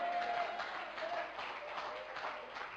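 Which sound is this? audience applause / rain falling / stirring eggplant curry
audience applause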